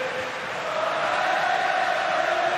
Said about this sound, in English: Gotta love the Irish crowd.